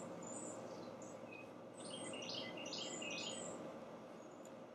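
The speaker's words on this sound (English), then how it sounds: "You can hear the birds and you can hear the air conditioning" Birds chirp outdoors in short, scattered high calls over a steady, constant hum from a nearby air conditioner, with no talking.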